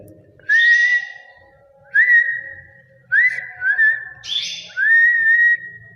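Canary chicks in a nest give thin rising whistled calls, four or five clear bursts spaced about a second apart, close and loud over faint background noise.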